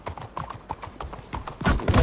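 Horse hooves clip-clop at a steady walking rhythm in Red Dead Redemption 2, growing louder and heavier toward the end as the horses come closer.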